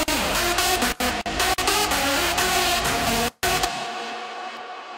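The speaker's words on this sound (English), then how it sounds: "here we change the bass line to keep it more interesting" EDM drop from a track, with a varied bass line under a darker melody and leads; dense, loud and continuous, broken by a few brief stutter gaps, then thinning and fading in the last second.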